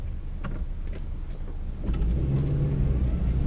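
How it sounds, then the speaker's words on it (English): A Geo Tracker SUV accelerates onto the freeway, its engine rising to a louder, steady rumble with road noise after a quieter stretch of driving. "Geo Tracker in 2023, getting on the freeway."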